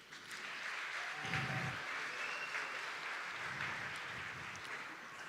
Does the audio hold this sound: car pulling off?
no